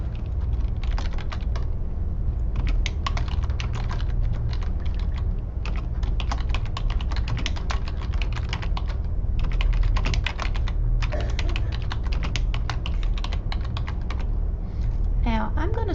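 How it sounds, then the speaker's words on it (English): Steady typing on a computer keyboard, a close and continuous patter of rapid key clicks at an even level throughout, with a voice briefly heard alongside. "For your title, you would go down here and type it in."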